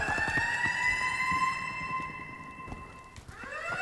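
Alarm in the Call of Duty Advanced Warfare video game, a steady electronic siren-like tone sounding loudly at first and then fading and breaking off near the end.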